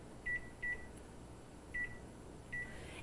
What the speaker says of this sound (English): we want to set the timer for 30 minutes